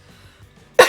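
A single short, sharp cough bursts out at the very end after near silence, close and fairly loud.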